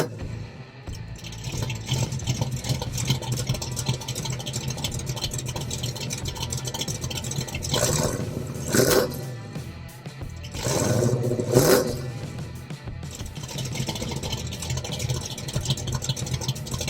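Car engine fitted with Cherry Bomb Old School mufflers, warmed up and blipped to 2,000 then 3,000 RPM: a steady rumbling idle broken by two loud revs around the middle, settling back to idle.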